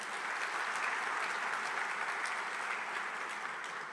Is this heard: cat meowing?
no